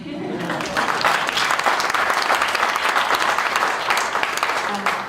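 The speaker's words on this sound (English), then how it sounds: "So now, clap." An audience at a project data presentation claps together, a loud, dense burst of applause starting abruptly after a moment of quiet and holding steady, with a faint voice beneath.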